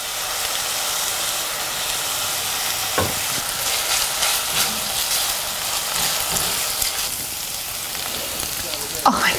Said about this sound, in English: we want to saute this red onion